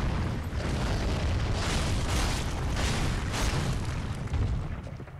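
A boss's butt bomb attack in Dark Souls 3 detonates in a sustained, loud rumbling blast with crumbling debris that fills the whole stretch without letup.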